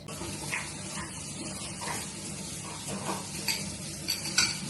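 Eggs being stirred and mixed in a pan while cooking, with a steady scraping, stirring rhythm and a soft sizzle underneath, close and continuous, with no talk.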